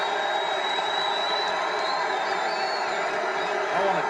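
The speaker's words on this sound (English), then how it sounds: "this crowd is ready for it." Boxing arena crowd at a heavyweight championship fight roars and cheers in a dense, sustained wash of voices, with scattered whoops rising above the din and an announcer's voice talking over it.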